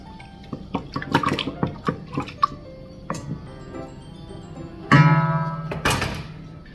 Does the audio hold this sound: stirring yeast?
yes